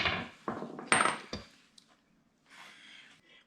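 A small powder-coated Corvair part gets whacked into place with several sharp metallic knocks close by, followed by lighter rattling and scraping as it settles.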